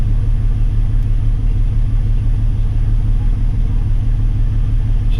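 A 2014 GMC Sierra with a twin-turbo V6 idles while warming up, a loud, steady low rumble throughout with no other sounds.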